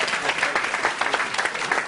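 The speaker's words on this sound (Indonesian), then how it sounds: "berikan tepuk tangan yang mulia buat Tuhan" A church congregation gives loud, dense applause, with many hands clapping in a steady, busy wash that fills the room for about two seconds.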